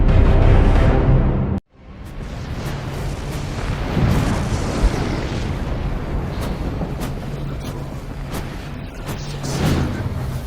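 A facility explodes in a Transformers film with a loud, dense, rumbling blast that breaks off briefly, then returns as a long roar of debris and fire.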